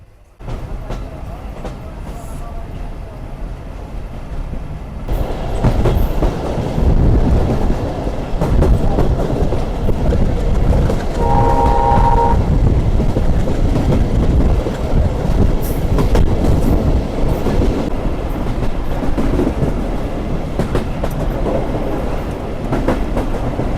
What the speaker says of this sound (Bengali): হুইসেল বাজিয়ে আমাদের ট্রেন ছেড়ে দিল গোলাবাড়ি রেলওয়ে স্টেশন থেকে